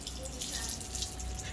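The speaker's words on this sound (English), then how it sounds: "As you can see, black water is coming out." Dirty black water flows out of a reverse osmosis filter membrane used for two to three years, a steady close splashing gush like a running tap, continuous and moderately loud.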